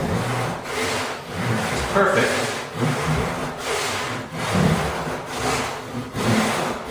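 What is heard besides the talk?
crosscut hand saw cutting wood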